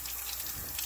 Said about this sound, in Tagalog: Ngayon, pinapadaan sa tubig.